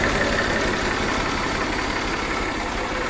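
A Massey Ferguson 1035 DI tractor diesel engine idling nearby, a steady, continuous rumble with an even chugging texture throughout, alone without talk.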